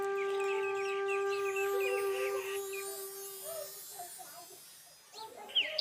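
Chickens cluck in short, quick bursts over a steady electrical hum, then fade into quieter shuffling noises, in a village in Pakistan.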